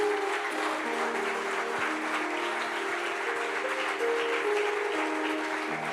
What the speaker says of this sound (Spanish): Demos un aplauso al Señor entonces